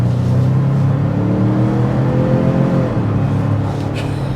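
A 2024 Ford Expedition Max Platinum with a 3.5 V6 accelerating, heard from inside as a steady, fairly loud engine drone with a rising whine, then a slight dip, and no talk.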